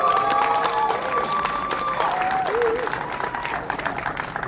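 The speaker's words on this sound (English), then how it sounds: "please also give a round of applause for Miss Maria" Audience applause at an award speech, sustained clapping from a crowd with a few whistles or cheers riding over it, gradually thinning toward the end.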